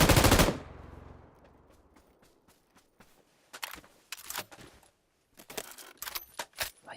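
Gunfire in GTA Online: a loud burst opens the stretch, then a quiet gap, then scattered rapid bursts of shots with metallic clinks that come and go.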